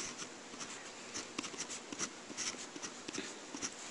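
Pen or marker strokes while drawing a number line for a sixth-grade math lesson, soft scratchy bursts in uneven rhythm, quiet and close with no talking.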